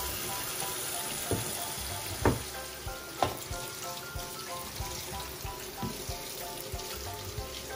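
Tap water runs and splashes over strawberries and grapes being washed, a steady close hiss broken by a few soft knocks and taps of fruit and hands.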